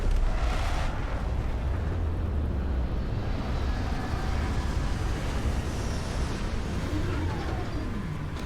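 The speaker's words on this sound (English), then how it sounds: "Landing struts primed. Retros firing." Spaceship retro thrusters fire during a landing in the Starfield video game, a loud, continuous low rumbling roar that holds steady throughout without voices.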